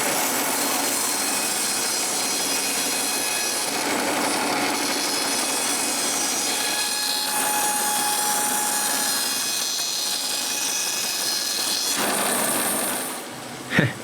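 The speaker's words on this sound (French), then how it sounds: "j'installe mon kit de refente pour une coupe de 5 quarts," A saw fitted with a ripping kit cuts birch logs into five-quarter boards outdoors. It roars loud and steady, close by, for the whole cut and winds down at the very end.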